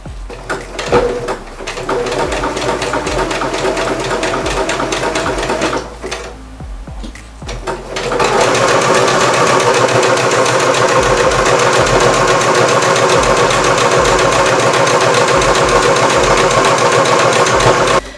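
A sewing machine runs in steady, continuous stitching bursts through stretchy scuba fabric, with a short pause and a shift before it resumes at a fuller, constant whir.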